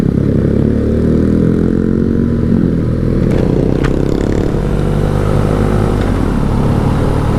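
A motorcycle engine runs loud and close, a rough steady idle with rattling and clattering over the deep throbbing rumble.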